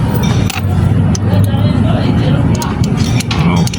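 A vehicle engine runs with a steady, loud low rumble throughout, with no clear start-up moment, while people talk nearby.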